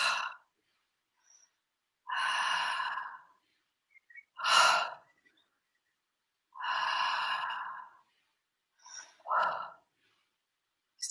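Slow, deep breaths in and out during a guided breathing exercise, about five long airy inhales and exhales spaced by pauses of silence, close and soft.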